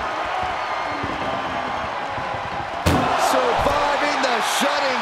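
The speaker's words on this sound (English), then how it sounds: "Trying to force the first door closed." A loud, heavy slam as an ambulance door is forced shut in the wrestling video game WWE 2K24, cutting sharply through steady arena crowd noise that keeps roaring afterward alongside commentary.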